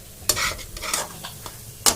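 Ground dal roasting in ghee is stirred in a pan, brisk scraping strokes over a soft sizzle, close and clear, several quick passes in two seconds, with no voice.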